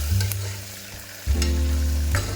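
Onions and curry leaves frying in hot oil while being stirred in a pan for vegetable pulao, a loud close sizzle with scraping stirs, briefly dipping before surging again.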